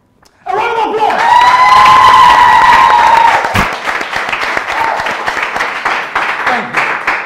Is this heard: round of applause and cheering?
yes